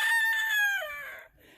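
A backyard farm rooster crows once among chickens, a clear, fairly close call that holds a high pitch, bends downward and tapers off, then goes quiet.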